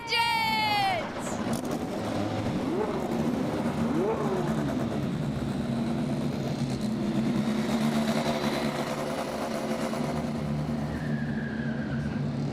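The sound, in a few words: IndyNXT race car engines starting on the Detroit street circuit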